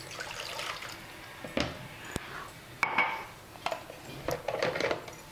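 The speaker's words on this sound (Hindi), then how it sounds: "तो इस स्टीमर में हम नीचे यहाँ पे पानी भर लेते हैं।" Water poured into the base of a kitchen steamer for manda pitha, a quiet splashing trickle mixed with metallic clanks and clicks of the pot and plates, close up with no voices.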